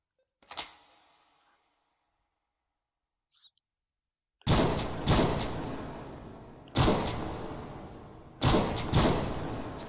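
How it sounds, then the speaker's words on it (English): A video game gun's stripper-clip mechanism loads rounds. One sharp click comes first, then a faint tick, then four loud, heavy metallic clacks in an uneven rhythm, each ringing briefly before fading. "I do like the sound of the stripper mechanism"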